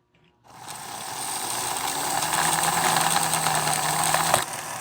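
Small electric motor in a Marx toy train chassis running steadily with freshly greased gears, a continuous close whirring and buzzing hum that starts abruptly, holds for about four seconds without any talking, then cuts off.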